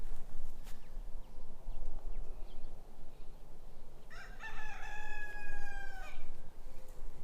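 Rooster on a homestead gives a loud, clear crow with a long drawn-out call midway, while chickens cluck and murmur faintly throughout against steady outdoor background noise.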